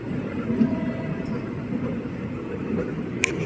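A passenger train pulling out of Nidubrolu station on the Palakollu to Chennai route, a steady low rolling rumble of the carriages throughout with a brief sharp metallic clank near the end.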